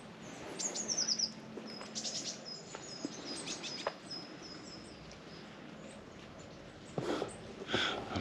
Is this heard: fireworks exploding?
no